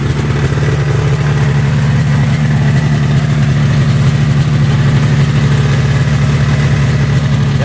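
Snowmobile engine idling after being repaired, an older used sled running smoothly: a loud, close, steady low drone with an even throb that holds unchanged throughout, with no voices over it.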